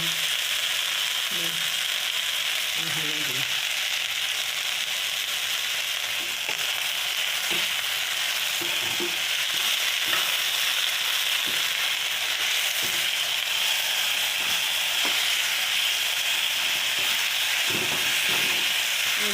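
Salt and turmeric sizzle in a hot frying pan, giving a steady, close hiss that runs unbroken throughout, with occasional soft scrapes and stirs but no talking.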